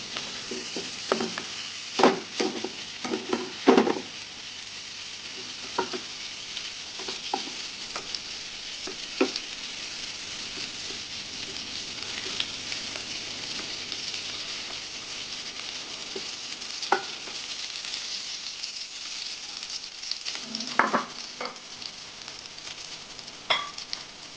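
Prawns sizzle steadily in hot oil in a pan as they are lifted out, a soft continuous frying hiss broken by occasional scrapes and clinks of the utensil.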